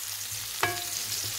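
Chicken and onions frying in a pan on high heat, a soft steady sizzle with one brief clink of a utensil, heard close with no voices.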